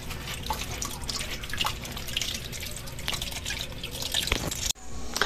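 Guavas are rinsed in water, with continuous close splashing, dripping and sloshing that stops abruptly near the end.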